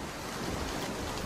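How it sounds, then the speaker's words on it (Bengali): Heavy rain pours in a steady, dense roar with a deep rumble of thunder blended underneath, loud and unbroken through the short stretch, no voices. "এটা তো মেঘের গর্জনের শব্দ। বাইরে মেঘ ডাকছে তো"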